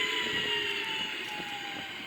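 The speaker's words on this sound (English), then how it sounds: "So you can see now we have the left engine going out." A Sukhoi Su-30 jet engine spooling down after shutdown in a flight simulator game, a steady loud whine with a high tonal hum holding on and easing slightly, with no voices.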